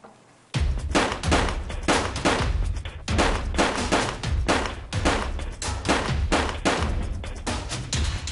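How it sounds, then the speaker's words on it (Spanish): A gun battle on block 4 of Veracruz street in San Martín de Porres, Lima, with dense bursts of sharp gunshots that crack in rapid, irregular clusters, loud and close, continuing without pause after a brief quiet start. "Intercambiaron disparos por toda la cuadra 4 de la calle Veracruz"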